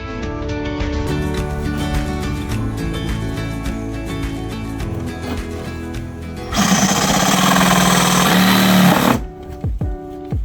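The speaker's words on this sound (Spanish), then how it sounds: "Por suerte Leo ya tenía experiencia cortando la caravana porque tuvo que cortar el techo para instalar el ventilador" A power tool cuts through a caravan wall with a loud, rapid juddering buzz that runs continuously, then grows harsher and louder for a few seconds near the end before cutting off.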